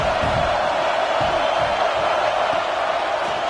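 A big stadium crowd in College Football 26 roars steadily, a dense, loud, continuous wash of cheering and noise without distinct breaks.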